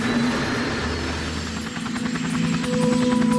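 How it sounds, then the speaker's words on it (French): Sikorsky helicopter in flight over Greenland: loud, steady rotor thump and engine drone heard from close range, unbroken throughout. "Ah, c'est pas qu'un simple hélicoptère, c'est un Sikorsky"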